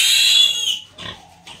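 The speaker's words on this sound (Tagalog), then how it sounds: "Malalaki na yung mga baboy ko guys oh." A pig on a farm lets out a loud, piercing squeal during vaccination, then two shorter, quieter squeals follow after brief pauses.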